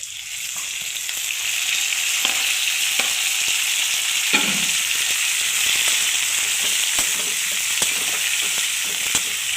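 Tomatoes sautéing with onions in a pan for a country rooster semi-gravy, a loud continuous sizzle and crackle of frying with occasional stirring scrapes and no voices.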